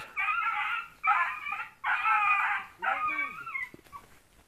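A trapped dog, caught in a rope snare in the mountains, whimpers and cries close by in four strained, high-pitched bursts, the last trailing off into quieter whines.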